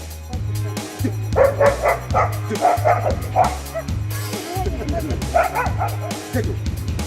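A dog confronting a bear barks and yips in repeated short bursts, loud and close, with some whimpering between barks.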